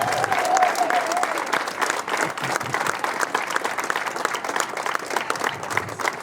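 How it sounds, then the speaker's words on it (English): An audience gives a softball team a round of applause: dense, sustained clapping from a crowd, loud and steady for several seconds, with brief voices near the start. "if we could give them a huge round of applause for that"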